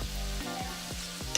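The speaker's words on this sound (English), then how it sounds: "Get us another good stir" Chile-lime shrimp linguine sauce is stirred in a pan, a faint steady sizzle with a few soft rhythmic spatula sweeps and a tiny clink at the end, close up.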